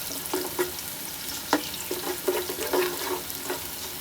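A spoonful of shahi cumin seeds crackles softly in hot oil for a shahi aloo pulao, with a steady low sizzle broken by a few light stirring clinks and scrapes.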